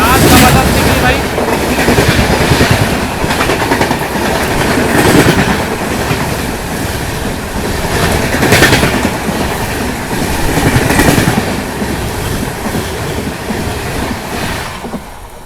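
An Amrit Bharat express train passes at high speed, a loud continuous rush with rhythmic clickety-clack of wheels over rail joints and surging waves of noise, fading slightly at the end.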